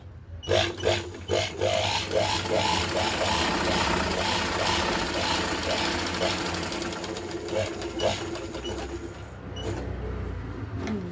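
A sewing machine stitching plain test cloth after home servicing and oiling: close, fast rhythmic mechanical clatter in short runs at first, then a longer continuous stretch, easing off near the end.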